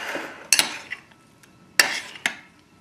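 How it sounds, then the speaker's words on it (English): Breading mixture of crushed macadamia and almond being stirred in a bowl for coating shrimp, with a few sharp utensil clinks and scrapes in quick bursts, close and fairly quiet, with no talking. "I'm just going to mix that up"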